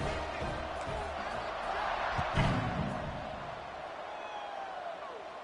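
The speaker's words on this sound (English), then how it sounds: "this crowd is buzzing after that last score" A football stadium crowd buzzes as a steady, distant roar with a brief thump partway through, heard under a commentator's voice.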